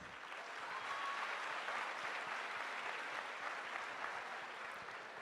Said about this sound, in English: give a huge round of applause for making this event a grand success by your presence